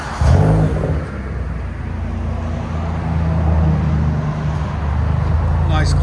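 A 2020 Hyundai Elantra with a Netami turbo resonator and muffler delete idles steadily, a low, smooth exhaust drone that follows a brief louder start and carries on under talk.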